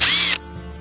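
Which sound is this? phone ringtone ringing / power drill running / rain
power drill running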